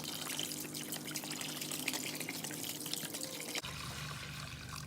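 Vinegar glugs from a gallon jug into a container, where an old J.H. Williams spanner is soaking for restoration. The close, steady splashing pour runs for several seconds, then cuts off abruptly, leaving a quieter trickle.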